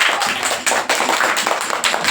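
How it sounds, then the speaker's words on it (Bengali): Schoolchildren in a classroom clapping their hands together, loud and close, with irregular bursts of claps, a short break, then renewed clapping. "হাততালি দাও।"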